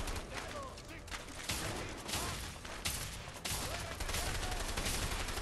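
Sustained gunfire in the co-op video game A Way Out, thick rattling volleys of shots and bursts through the whole stretch, with voices mixed in beneath the shooting.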